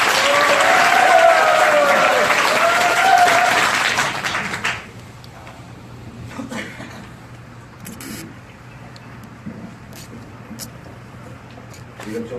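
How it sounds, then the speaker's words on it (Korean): An audience at a Daejeon campaign rally for Federation of Korean Trade Unions leadership candidates bursts into loud applause for about four seconds, then the room falls to a quiet murmur with a few scattered sounds. "힘찬 박수 부탁드립니다"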